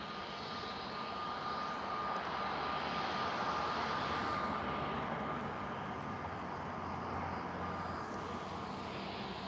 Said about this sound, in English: An A320 Neo.